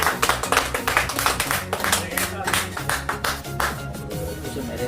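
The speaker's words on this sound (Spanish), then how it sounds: "Esto se merece un aplauso a la gente." A group of people clapping along in a home kitchen after carving a Halloween pumpkin, a quick rhythmic patter of hands in pulsing bursts with voices mixed underneath.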